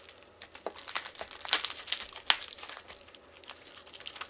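Scissors cut open crinkly plastic packaging during an unboxing, giving close, irregular crackling and crinkling bursts with a few sharper snips and tearing rustles over a few seconds.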